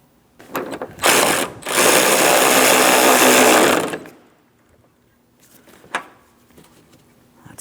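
A power tool tightens the mounting bolt on a 2003-2007 Cadillac CTS 3.6L V6's coolant reservoir, giving a couple of short revving bursts, a loud whir of about three seconds, then faint clicks and handling noises.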